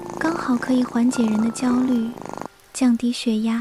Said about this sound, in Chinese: 这种嗡嗡嗡的声音， 猫咪的呼噜。